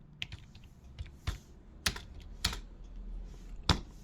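Computer keyboard typing while a string input program is written: a few separated keystrokes spaced over several seconds, each a crisp close click, with faint background noise between them.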